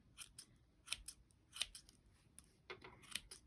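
Scissors snip repeatedly while trimming a small crochet yarn pom-pom, a series of sharp, close, quiet cuts in an irregular rhythm against near silence.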